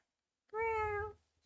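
A cat lets out one clear, sustained meow lasting about half a second, close and loud against an otherwise quiet room.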